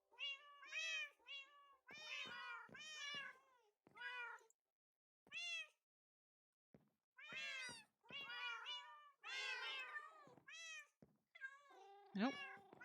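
Minecraft cats meowing in a game, repeated harmonic mews in irregular bursts with short pauses, several overlapping calls, fairly close and clear with no talking.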